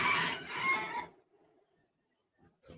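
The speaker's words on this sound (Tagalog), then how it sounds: "Sabay na manok." A rooster crows once nearby, a loud, strained cock-a-doodle-doo lasting about a second, followed by near silence and a faint sound at the end.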